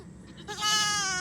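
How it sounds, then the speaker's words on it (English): A goat lets out one close, wavering bleat after a moment of quiet barnyard background, loud and nasal, fading off at the end. "These goats mostly eat hay"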